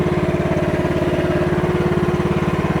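Kubota MH12RX mini excavator engine running steadily at reduced RPM, a loud, even mechanical throb with a regular pulsing rhythm and no talk over it.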